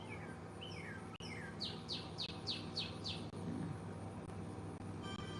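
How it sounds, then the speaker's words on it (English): A bird, a cardinal, sings a series of quick, descending chirps and whistles, fairly near, over a low background hum. "No, that was the real bird."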